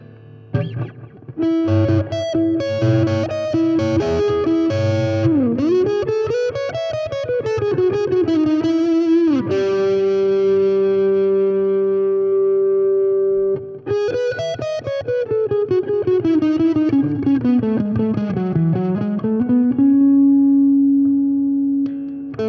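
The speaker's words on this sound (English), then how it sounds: "show the differences between the 2 types of delay" Roland Cube guitar amplifier with delay effects: sustained electric guitar notes and bends trail off into repeating echoes, loud and close, with no talking.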